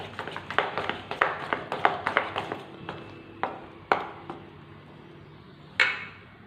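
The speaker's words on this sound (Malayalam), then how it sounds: "ചേർത്തിട്ട് നന്നായിട്ടൊന്ന് മിക്സ് ചെയ്തെടുക്കാം." A spoon clinks and taps against a bowl as snack batter with a pinch of turmeric is mixed. The quick, irregular strikes come close by and thin out into a few scattered knocks.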